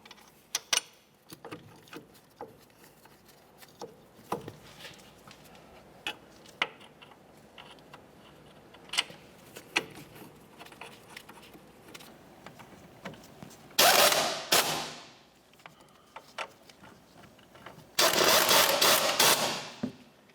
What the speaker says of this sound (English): We'll start in each of our mounting bolts and bottom them out.